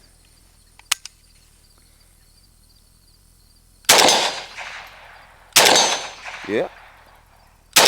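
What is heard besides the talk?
gunfire from a Century Arms Romanian AES10B2 RPK rifle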